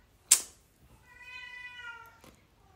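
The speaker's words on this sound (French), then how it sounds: "j'ai mon chat qui est pas bien" A single drawn-out meow from a house cat, fairly quiet and close, preceded by a sharp knock and followed by a faint click, otherwise near silence.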